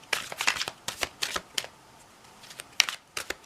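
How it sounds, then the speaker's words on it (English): Deck of herbs-and-flowers oracle cards being shuffled by hand, quick bursts of crisp riffling and flicking that come in uneven clusters, close and fairly quiet, with short pauses between. "So let's give this a shuffle."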